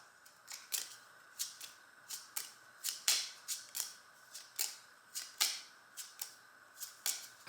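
A deck of ally cards for a tabletop case game being shuffled by hand, a quiet series of short, crisp riffling snaps repeating about twice a second, close up with no voices.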